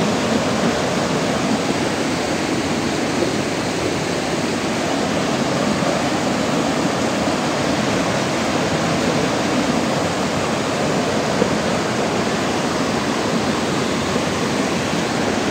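Strong river water rushing and churning in a steady, loud roar that fills the whole stretch without a break, close by and with no voices.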